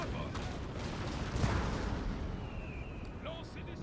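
Cannon artillery fires in a Napoleon: Total War battle, a dense, continuous rumble of booming volleys that swells around the middle and stays loud throughout.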